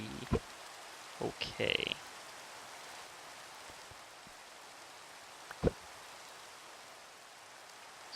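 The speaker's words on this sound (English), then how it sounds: "Luckily, rain sometimes lasts a pretty good length of time" Steady rain falling in Minecraft, a soft continuous hiss throughout, with someone speaking briefly and a few sharp clicks and taps standing out.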